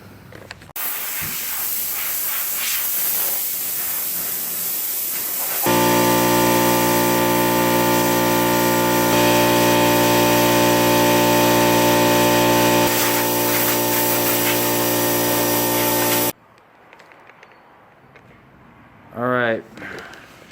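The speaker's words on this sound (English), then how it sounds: "While I'm spraying the engine bay" A loud, steady hiss of spray painting a car's engine bay runs under an engine-like drone for several seconds, then cuts off, leaving quiet room sound and a brief rising tone.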